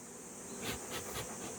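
Honeybees buzzing around a hive as they are fed pollen patties, a steady faint hum with a few gently swelling pulses, no voices.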